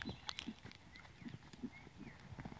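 Hooves of a horse ridden during an arena riding lesson, a steady rhythm of soft, moderately close thuds and clops with no talking over them.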